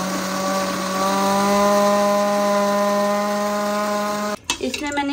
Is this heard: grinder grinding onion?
yes